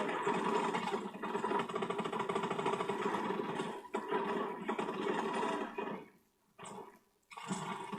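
Vehicle engine from the video game Advanced Warfare, a steady loud rumbling drone that holds for several seconds, dips out briefly and returns.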